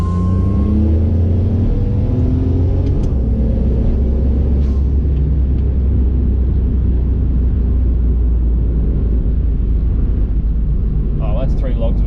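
A Ford XR6 Turbo pulls hard in second gear, its engine rising early then settling into a heavy, constant rumble with wind roar, while voices talk over it.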